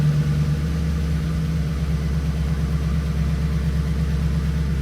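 An old Pontiac engine idles steadily with a low, continuous rumble and a slight misfire, a faint uneven stumble running through the otherwise constant drone, close by and alone.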